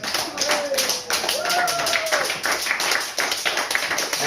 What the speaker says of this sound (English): Everybody give Anne a round of applause.